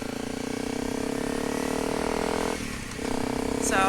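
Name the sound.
Honda 250 L Rally motorcycle riding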